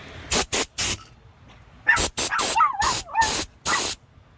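Brake cleaner sprayed from an aerosol can into the ports of a Mercury 60hp outboard carburetor, heard as sharp hissing bursts, three quick ones and then several longer ones, with faint squeaky sounds between.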